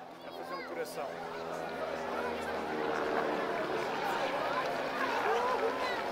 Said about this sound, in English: And a big cheer from the crowd as well.